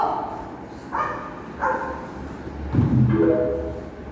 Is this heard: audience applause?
no